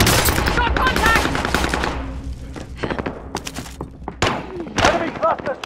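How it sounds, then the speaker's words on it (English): Loud machine gun bursts and scattered gunshots rattle through a firefight in the video game Call of Duty Modern Warfare (2019), with thumping impacts and radio-style voices in the mix. "Taking heavy fire here."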